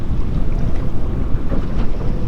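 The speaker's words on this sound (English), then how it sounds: "the wind's more than it should be" Strong wind buffets the microphone on a fishing boat out on the Solent, a loud, steady roar with rushing water and waves beneath it.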